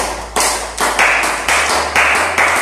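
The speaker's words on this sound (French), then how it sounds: "Applaudissez encore pour vous" Audience at a business motivational event claps in a rhythmic pattern, strong beats about every half second, loud and close with broadband noise underneath.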